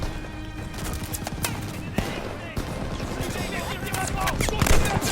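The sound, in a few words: Kar98 rifle gunfire in Call of Duty Vanguard video game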